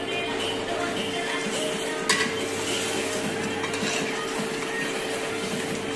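A spoon works through chicken biryani with yogurt in a pot, giving a continuous close scraping, stirring swish over a soft sizzle, with one sharp metal clink partway through.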